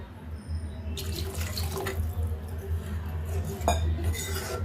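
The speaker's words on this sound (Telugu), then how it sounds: "కొంచెం వాటర్ వేసుకుందామండి" Water running from a tap and splashing while being poured into a pan for egg curry, a steady rushing stream close by, with light clinks of utensils and metal pans near the end.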